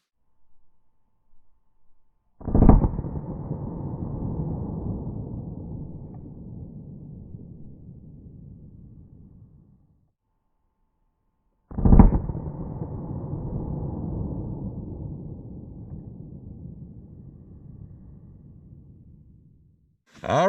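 Two loud .40 S&W shots from a subcompact pistol loaded with Sellier and Bellot JHP rounds, each a sharp crack followed by a long rolling decay, spaced about nine seconds apart, with a third blast starting at the very end.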